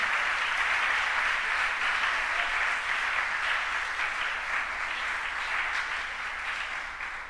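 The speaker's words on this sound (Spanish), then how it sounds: "Aplauda fuerte a Dios por eso." Church congregation applauding during a sermon, a dense, sustained wash of many hands clapping at once, fairly loud and even throughout, tapering slightly toward the end with no speech over it.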